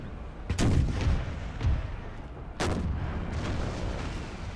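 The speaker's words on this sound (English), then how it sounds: "Order the artillery to fire quite far back through the lines here at the enemies that are coming up." Artillery cannons firing across a battlefield in the strategy game Empire 2, two heavy booming volleys a couple of seconds apart with a rumbling low battle din between them.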